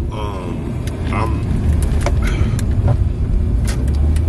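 Road rumble and engine drone fill a car cabin from inside as it drives through a neighborhood, steady and close, with a person talking over it.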